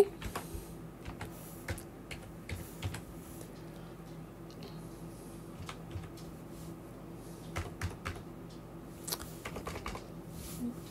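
Soft, steady tapping of computer keys while entering a pigeon ring number, irregular clicks in short runs over a quiet room hum, with no talking.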